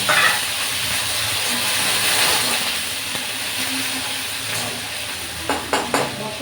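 Water poured into a pan of frying cumin and ginger for a hilsa fish curry, giving a steady loud sizzle and hiss with light stirring scrapes near the end.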